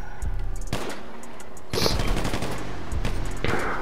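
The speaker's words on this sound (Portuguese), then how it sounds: "Tem gente aqui em cima trocando tiro." Gunfire exchanged in the roleplay video game GTA RP, with loud rapid bursts of automatic shots in several volleys separated by short gaps, close and dominant.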